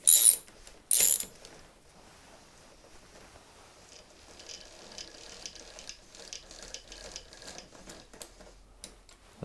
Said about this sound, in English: So size 17. That's going to undo the axle.